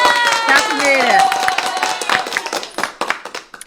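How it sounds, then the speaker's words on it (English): A round of applause for Kathy: scattered hand claps under a tonal, voice-like sound at first, then thinning into a few separate sharp claps toward the end. "Let's give a round of applause to Kathy."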